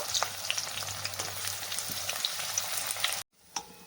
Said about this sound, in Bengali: দিয়ে দিচ্ছি পেঁয়াজগুলো খুব ভালো করে ভেজে বেরেস্তা তৈরি করে নেব